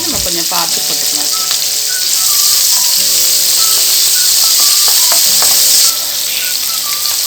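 Ingredients for idiyappam kichadi sauté in a hot pan, giving a loud, steady sizzling hiss throughout with a few light clinks and stirring sounds.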